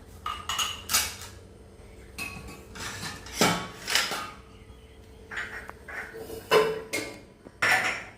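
Saucer and dishes clatter while tea is served in a home kitchen, with a string of sharp, irregular clinks and knocks, close and fairly loud, and no talking.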